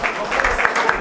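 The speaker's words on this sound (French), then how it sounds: "Est-ce qu'on peut applaudir pour papa?" An audience at a press conference gives a short burst of applause for an elder family member, with dense, steady clapping from a moderately distant crowd.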